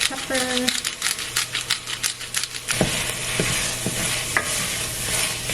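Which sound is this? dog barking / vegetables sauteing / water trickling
vegetables sauteing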